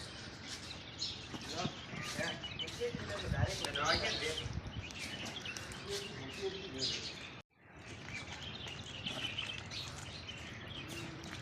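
Small birds chirp at a feeding spot beside a hillside temple, high faint tweets scattered through steady outdoor ambience with people talking nearby and a brief dropout partway.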